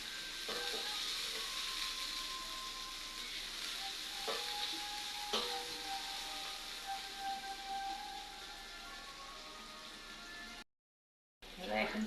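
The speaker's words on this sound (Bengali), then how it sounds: "পেঁয়াজ কুচি ভাজা ভাজা করে নেব।" Chopped onions fry in oil in a wok for a country chicken curry, giving a continuous, fairly loud sizzling hiss with a few soft stirring knocks, then a brief cut to silence near the end.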